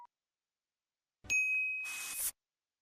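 A single bright notification bell ding rings out after a moment of silence, a clear ringing tone that ends in a brief noisy shimmer before cutting off.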